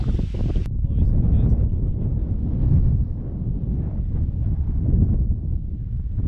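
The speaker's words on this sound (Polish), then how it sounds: "wiatraki" Gusty wind buffets the microphone on a harbour pier with a view of wind turbines, a steady low roar with rising and falling rumble throughout.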